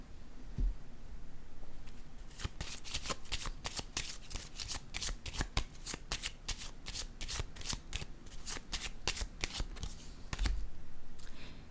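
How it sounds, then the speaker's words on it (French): Tarot cards shuffled and handled on a table during a reading, giving rapid, close, crisp riffling and flicking bursts that run nearly throughout, with a few soft thumps as cards are set down. "Je vais déposer une carte ici."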